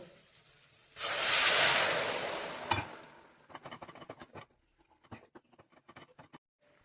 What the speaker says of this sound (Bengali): এবার এই মশলাটার মধ্যে আমি গরম জল ঢেলে দেব।